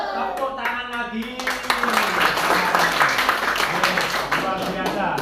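Children in a classroom clap together, a lively burst of hand claps that grows fuller after the first couple of seconds while a voice talks over it.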